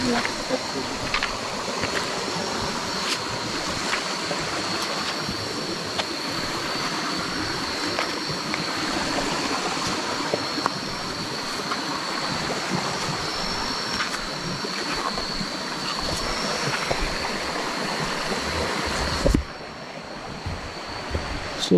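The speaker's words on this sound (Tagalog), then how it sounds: "pasensya na talaga maingay yung tubig" Rushing water roars continuously and close by, a dense, steady wash of noise that briefly dips near the end.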